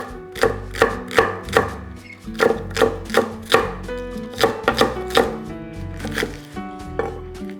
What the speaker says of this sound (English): We need 2 scallions. Cut it down the middle.